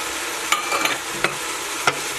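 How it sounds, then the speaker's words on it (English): Chicken, chorizo and rice are stirred in a pan while white wine deglazes it, giving a soft steady sizzle with three distinct scraping strokes of a spoon along the bottom, close and alone. "We'll give that a good stir."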